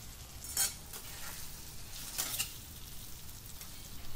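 Potatoes and spices fry softly in a pan, with a low continuous sizzle and a couple of brief spatula scrapes against the metal. No one speaks.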